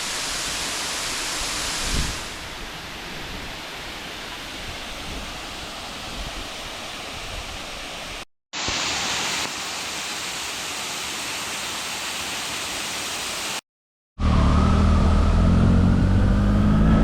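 Cascata da Estrada, a roadside waterfall high on a rain-swollen route in Brazil, pours with a steady, loud broadband rush that runs unbroken, with two brief cuts to silence and a fuller, heavier roar at the end.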